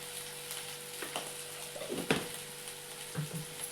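Drumstick curry with coriander powder and chili powder being stirred in a pan, a low steady sizzle with a few soft scraping strokes and clinks of the spoon against the pan, close and fairly quiet.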